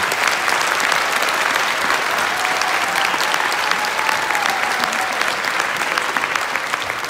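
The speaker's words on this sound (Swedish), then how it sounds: "jag tycker jag ska få en enorm applåd." A large audience at a joint municipal arts school concert gives the technicians Erik and Bosse a big, loud, sustained round of applause, dense clapping with no break for over seven seconds.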